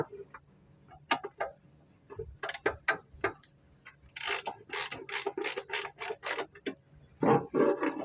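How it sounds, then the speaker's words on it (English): A ratchet wrench turns a bolt in bursts of rapid clicking, first scattered single clicks and then a long fast run of ratcheting, close and crisp over a quiet background. "A couple of turns on it with the wrench."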